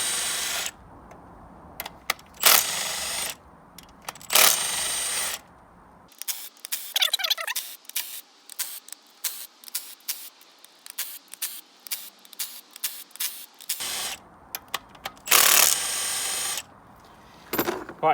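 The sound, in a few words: torque gun undoing engine cam cap bolts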